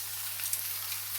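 A sirloin steak searing in a hot pan gives a short, even, hissing sizzle at moderate level with no voices.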